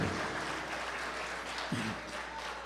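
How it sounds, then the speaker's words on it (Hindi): An audience at an Urdu poetry recital claps for a few seconds, a soft, fairly distant patter of hands with a brief low murmur partway through. "जोरदार तालियां बजा दीजिए"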